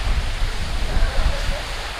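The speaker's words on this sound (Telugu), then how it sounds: "ఇదేనండి వాటర్ ఫాల్స్" Tada waterfalls near Varadaiahpalem pour in a steady, loud broadband rush of falling water that fills the whole stretch without a break.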